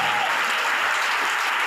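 A church congregation at an international mission convention breaks into loud, sustained applause, a dense wash of clapping filling the hall without pause.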